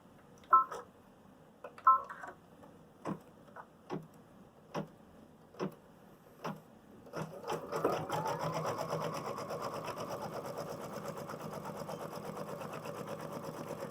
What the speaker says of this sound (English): we're going to stitch out the placement stitch for the applique